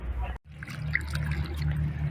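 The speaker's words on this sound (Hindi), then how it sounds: "अभी हम इसको इरिगेट करेंगे" Irrigation water flows and splashes along ridges planted with Caralluma, a steady close gushing and trickling with a brief break near the start, then continuous bubbling pour.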